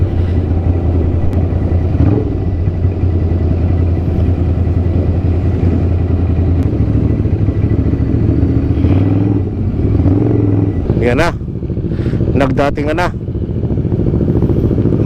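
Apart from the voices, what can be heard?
many motorcycles riding and revving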